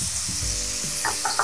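Two spoonfuls of soy sauce hit potatoes frying in a pan, giving a steady close sizzle with a few bubbling crackles and no talking.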